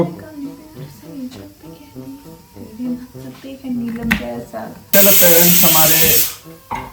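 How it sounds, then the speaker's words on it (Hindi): A pressure cooker whistle lets out a loud, continuous burst of hissing steam for over a second, following stretches of talk and kitchen noise. "स्पेशल अपीयरेंस हमारे ऑडियो में है city of a pressure cooker"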